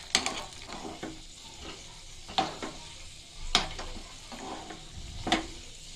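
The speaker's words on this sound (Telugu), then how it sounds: "ఇవి కూడా కొంచెం ఫ్రై చేద్దాం." Sabudana payasam ingredients fry and get stirred in a pan, with a steady sizzle broken by several sharp scraping strokes of the spoon at irregular intervals, close and moderately loud, no talking.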